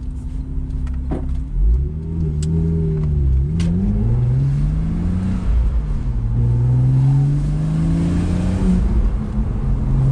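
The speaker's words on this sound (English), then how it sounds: "Just sounds absolutely fabulous with the exhaust open" A Porsche 987.2 Cayman S or Boxster S direct-injected flat-six engine revs repeatedly with an open exhaust, rising and falling in deep, throaty sweeps, close and loud.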